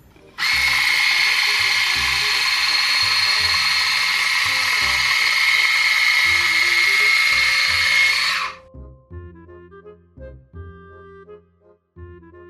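A Rossmann electric split-end hair trimming tool whirs with a steady high-pitched buzz for about eight seconds, then cuts off, leaving someone talking quietly.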